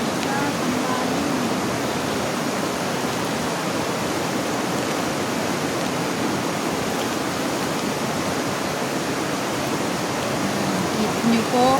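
A flooded river rushes during the rainy season, a dense, unbroken roar of water that stays steady throughout. A voice is heard briefly over the torrent near the start and again at the end.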